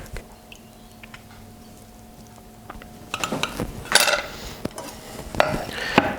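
A knife chops sun-dried tomatoes on a cutting board, first a few faint taps, then a run of sharper, louder clacks and scrapes close by, with no talk.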